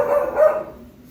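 A dog at a vacation house in San Fernando, La Union gives two quick barks close by, then a fading tail of sound.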